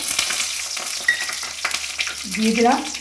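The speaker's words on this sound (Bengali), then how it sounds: "কালো জিরে, দুটো শুকনো লঙ্কা আর তেজপাতা ফোড়ন দিয়ে দিলাম।" Black cumin, two dried red chillies and a bay leaf crackle and spit in hot oil, a close, sharp sizzle with quick pops, then a brief clink of a utensil near the end.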